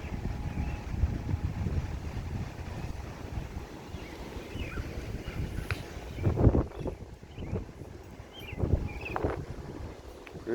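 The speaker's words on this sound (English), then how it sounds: "You can see how windy it is." Strong wind outdoors buffets the microphone in a garden setting, a continuous low rumbling roar with gusts swelling and fading, fairly faint, with no talk.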